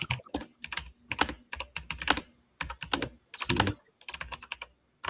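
Rapid computer keyboard typing in bursts of clicky keystrokes with short pauses between them, close and clear with no voices.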